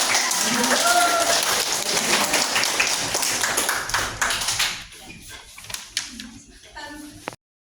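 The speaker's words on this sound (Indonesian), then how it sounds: "Kalian semua hebat. Tepuk tangan." A classroom of students applauds after a group role-play of a class election meeting, scattered close claps that thin out toward the end, with voices and chatter mixed in.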